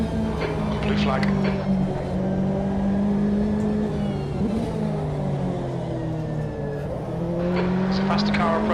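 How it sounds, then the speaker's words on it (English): Race car engine in the sim racing game Automobilista 2 at Road Atlanta, a sustained loud drone with shifting pitch as a faster car closes in, with radio-style voice callouts layered over it. "Faster car approaching."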